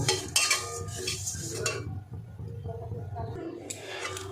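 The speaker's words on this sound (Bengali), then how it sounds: "এই যে একটু শুকনো কড়াইয়ে ভেজে নেব, এটা 2 মিনিট ভেজে নেব" Oats dry-roasting in an empty kadai, with a spatula scraping and clinking against the metal in a steady stirring rhythm, close and moderately loud, easing off midway before picking up again.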